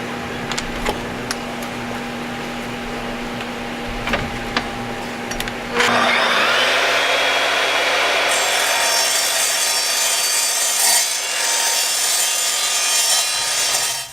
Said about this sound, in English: I cut all the square tube steel parts on Rage 3 miter saw with